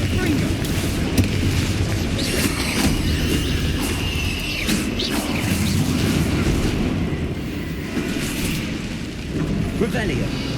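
Repeated explosive spell booms and bursts from Hogwarts Legacy combat, loud and dense over a continuous rumble, with a voice calling out spell names throughout.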